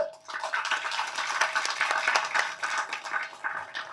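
An audience applauds producer Prabhakaran with a dense patter of many hands clapping, fairly soft and continuous, rising and dipping slightly over a few seconds.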